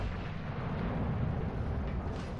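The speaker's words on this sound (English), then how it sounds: "You don't need all the guns to fire at once." Naval guns from HMS Marlborough booming in a warship video game, heard as a dense, continuous low rumble of heavy gunfire with no talk over it.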